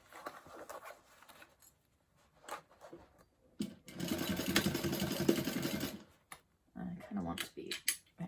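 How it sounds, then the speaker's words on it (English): A sewing machine stitches a bag's side seam in short whirring bursts, then runs steadily for a couple of seconds before stopping and starting again, with a quiet voice between runs. "Sew with a 3/8 inch side seam allowance up to the top to the other side."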